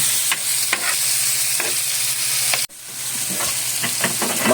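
Squid sautéed in a pan in a home kitchen, a loud continuous sizzle with occasional spatula scrapes, a brief dropout midway, then the frying resumes steady and close, no talking.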